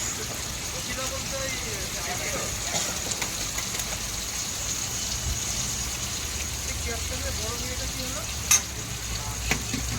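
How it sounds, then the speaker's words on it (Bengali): Egg fingers on sticks fry one after another in hot oil in a wok. A steady, even sizzle runs all the way through, with a couple of brief clinks near the end. "তেল গরম করে দিয়েছি, এবার এক এক করে আমি ছেড়ে দিলাম কড়াইতে।"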